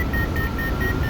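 A hang glider's variometer beeps while circling in a thermal, a regular train of short, high-pitched tones over a loud, steady rush of wind.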